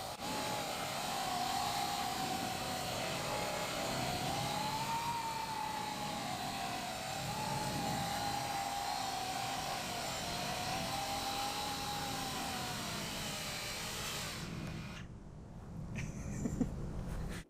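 Coanda-effect propulsion drone flying at half throttle, a loud continuous whirring drone with a wavering whine, close by, cutting off abruptly near the end.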